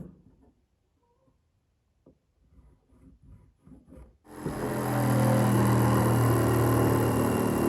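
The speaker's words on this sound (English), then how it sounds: "I'll just cut these out with the jigsaw here." A jigsaw cutting a wooden armrest for a porch swing, starting after a few quiet handling knocks and then buzzing loudly and steadily to the end.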